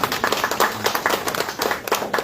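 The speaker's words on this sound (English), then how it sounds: "round of applause" Crowd at a book launch event clapping after a poetry reading, a lively burst of applause with individual hand claps standing out in an uneven rhythm.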